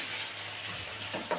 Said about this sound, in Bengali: পনিরটা ভালো করে লাল করে ভাজা হয়ে গেছে